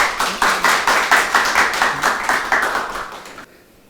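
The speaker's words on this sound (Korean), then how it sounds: "큰 박수로 환영해 주십시오" An audience at a street photography talk claps to welcome a Ricoh GR ambassador onto the stage, brisk and fairly loud applause that holds steady for about three seconds and then cuts off into silence.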